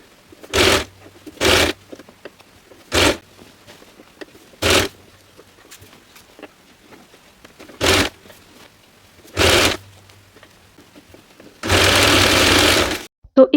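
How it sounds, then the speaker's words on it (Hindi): Sewing machine stitching two layers of soft toy fabric together while assembling a tote bag, heard as six short, loud bursts of whirring stitching with pauses between, then a longer continuous run at the end. "ऊपर से दोनों फैब्रिक को मिलाते हुए हमें यहाँ से इस पे स्टिच लगा देनी है।"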